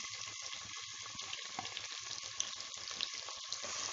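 Finely chopped large onion frying in hot oil with cinnamon and shahjeera, a steady dense sizzle with small crackles and pops, close and continuous with no talk.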